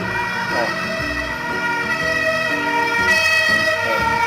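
A fire engine siren wails continuously, loud and close, its rising and falling tones filling the whole stretch.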